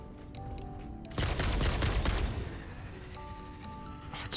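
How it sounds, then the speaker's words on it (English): Homing bullets fire in the video game Satisfactory as a sharp burst of rapid gunfire lasting about a second, set against quieter tonal game sounds before and after. "we'll take this thing out with our new homing bullets"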